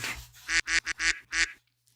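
A duck quacks five times in a quick, loud, close series of honking calls, then falls quiet, with a low steady hum underneath.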